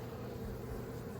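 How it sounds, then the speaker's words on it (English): Bees buzz in a dense, continuous drone around a hive during a removal, a close steady hum with no talking. "You can see a lot of bees have come out to get back on the hive."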